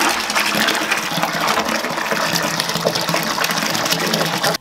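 Bathtub filling with sun-heated water in an off-grid mountain home, a steady close gush of running water that continues unbroken for several seconds before stopping abruptly.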